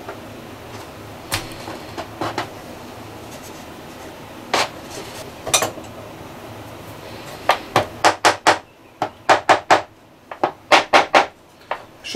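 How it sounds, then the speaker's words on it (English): The back of a chisel is used to tap on wood while building a 7/8 cello, giving sharp, close knocks that start sparse and irregular and then turn into a quicker run of repeated taps. "Should be using a hammer and not the back of a chisel"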